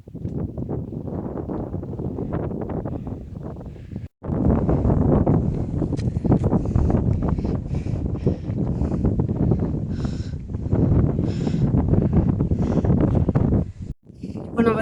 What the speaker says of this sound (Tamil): கீழே இருந்து அப்படியே காற்று இந்த பக்கம் நம்மளுக்கு தள்ளுவோம்